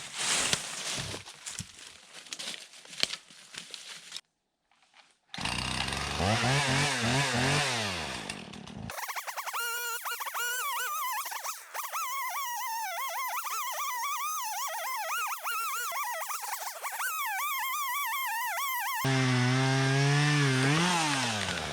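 A chainsaw cuts into an old poplar stump with loud revving bursts, a brief pause, then long sustained cuts with a wavering engine pitch.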